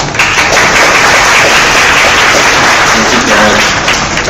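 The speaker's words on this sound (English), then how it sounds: "So let's give a big round of applause to Jay." A close, loud burst of audience applause at a social media influencer event, with dense continuous clapping that fills the room evenly from start to finish.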